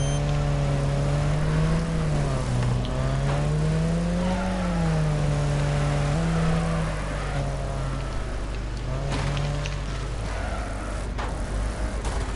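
V8 Hotstox stock car engines in an online BriSCA racing video game give a continuous droning note that rises and falls in pitch. The sound stays close and steady throughout, with no voices.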